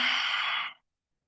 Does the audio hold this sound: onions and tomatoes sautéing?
no